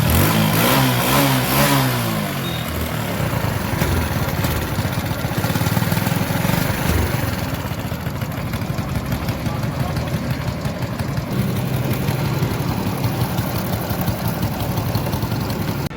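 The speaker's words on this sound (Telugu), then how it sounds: "బైక్ అయితే మనకు స్టార్ట్ అయిపోయింది" A Hero Passion Plus motorcycle engine, just repaired after an ignition coil problem, runs loud and close, starting with a rough revving burst before settling into a steady idle that continues alone.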